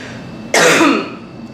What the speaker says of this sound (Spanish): sigo con la tos